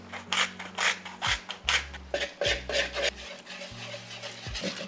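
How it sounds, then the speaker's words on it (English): A whisk beats through a thick mix of coconut oil, date syrup, brown sugar and salt in a bowl, making steady rhythmic scraping strokes, close and moderately loud, with a low hum underneath. "and whisk it until all of this is pretty mixed through."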